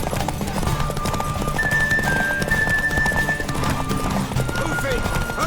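Horse hooves clip-clop steadily in The Witcher 3 game, a continuous run of close hoofbeats with an occasional whinny, under game characters talking and shouting throughout.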